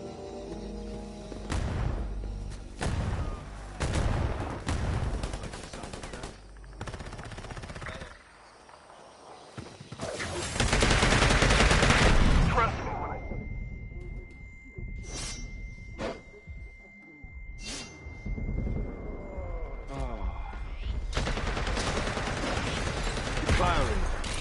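Bursts of gunfire in the video game Predator: Hunting Grounds, with several loud volleys, rapid sustained shooting and sharp separate shots spread across the clip, mixed with game effects and radio-style voices.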